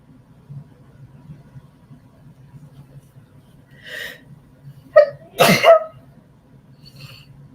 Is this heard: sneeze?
yes